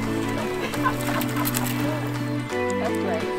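Wild ducks in a winter park at Algonquin, used to being fed by people, call with a rapid series of nasal, harmonic quacks and clucks close by over a low outdoor background.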